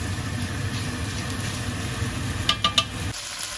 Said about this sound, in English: this has been frying off for a couple of minutes